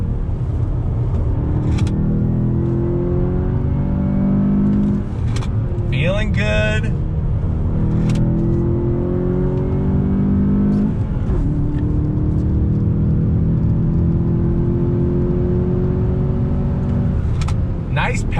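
A 2020 VW Jetta GLI accelerates on a race track, its engine note climbing steadily through the gears with a loud in-cabin drone and brief shifts, while a driver speaks briefly over it.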